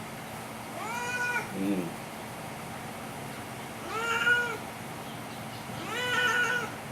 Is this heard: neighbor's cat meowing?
yes